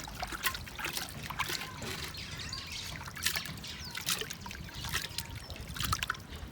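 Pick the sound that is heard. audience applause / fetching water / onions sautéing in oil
fetching water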